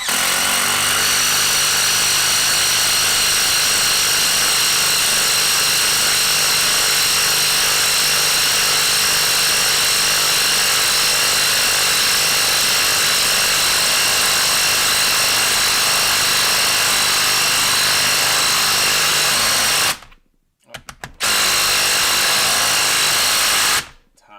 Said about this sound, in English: we're going to see how these do driving in a 4-inch lag screw